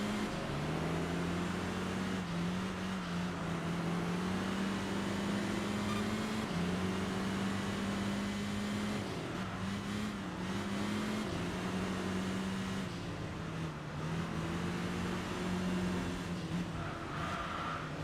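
A rotary racing car engine in Enthusia Professional Racing drones loud and continuous, its pitch rising and dipping with throttle and gear changes, no talk over it.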